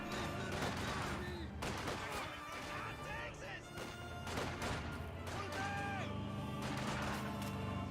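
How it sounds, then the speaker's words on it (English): Rapid rifle volleys from a conscript squad crackle without pause in a Company of Heroes 2 battle, dense and steady gunfire mixed with distant blasts, while a caster talks over the action. "Conscripts firing away, hitting the Grenadier."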